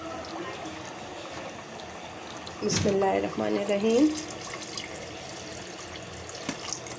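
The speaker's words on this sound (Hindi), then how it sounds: "अब हम इसको इसमें पानी डालेंगे और गोश्त गलाएंगे।" Water is poured into a pot of browned beef korma to cook the meat, making a brief splashing, gurgling pour of about a second and a half amid kitchen background. A person speaks.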